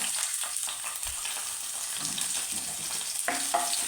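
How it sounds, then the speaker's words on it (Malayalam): Shallots hit hot oil with popped mustard seeds in a pan for a Kerala mango pulissery curry, producing a loud, steady crackling sizzle with a few sharper pops near the end. "കടുക് പൊട്ടിയിട്ടുണ്ട് നമുക്ക് അതിനകത്ത് കുറച്ച് കൊച്ചുള്ളി ഇടാം"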